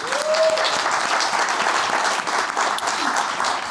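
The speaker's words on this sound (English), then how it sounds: "Big round of applause for Team U." Steady, dense applause from a live audience at a startup pitch event, loud and continuous for several seconds with a brief voice heard early on.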